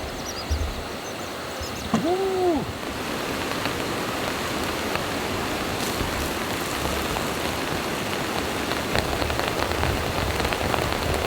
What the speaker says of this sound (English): It's really chucking down with rain now.